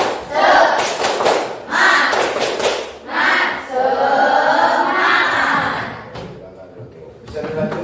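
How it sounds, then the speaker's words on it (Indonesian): A fifth-grade class stands and does a rhythmic clapping chant, with loud group voices and claps arriving in several strong bursts over about eight seconds before fading. "Tepuk semangat."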